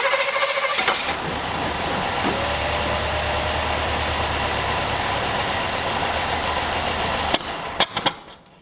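V8 engine of a Buick LeSabre left sitting for 34 years, running lean with a choke that won't stay on, starting up and idling with a loud, close, uneven rumble before faltering and cutting out with a few clunks.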